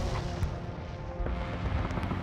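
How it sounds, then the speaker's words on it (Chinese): Cannons shell dug-in positions in a heavy artillery bombardment, a dense and continuous rumble of booms with no single blast standing apart, fairly loud throughout. "联合国军以100架次飞机、300余门大炮连续轰击志愿军阵地"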